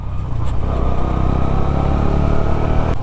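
A Honda Hornet 125 motorcycle being ridden, its engine rumbling and revving loudly and close throughout, with rattling clatter and no talking.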